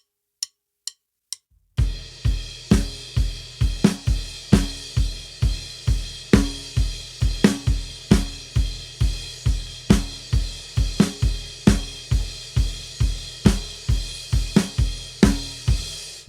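A drum kit plays a driving four-on-the-floor groove with crash cymbals on every quarter note, steady and loud after three sharp count-in clicks, with no talking.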